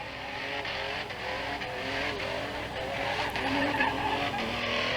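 A race car spinning celebratory donuts after a win, tires skidding and squealing continuously over a droning engine, with a loud, steady roar that swells slightly toward the end.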